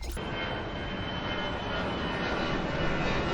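An airplane flies overhead during an outdoor location shoot, a loud, steady broadband engine roar that stays constant throughout with no voices over it.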